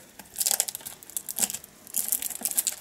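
Cellophane wrapping is peeled off an AmigaOS 4.1 box, giving close, crisp crinkling and tearing in several quick bursts.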